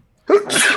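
A single sharp sneeze, loud and close, bursting out after a brief silence with a breathy, hissing tail.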